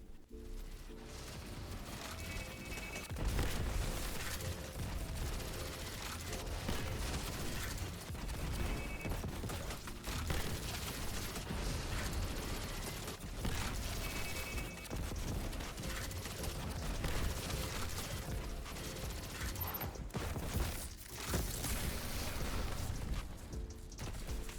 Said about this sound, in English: This is me getting my super back as fast as I possibly can with this submachine gun.